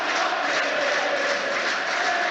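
An aggrieved football crowd at Arsenal vs Brighton in the 2022/23 Premier League, heard as a steady, dense roar of many voices that holds at an even loudness throughout.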